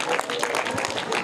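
A group of children claps loudly in a quiz setting, a short burst of fast, dense applause that is close and continuous.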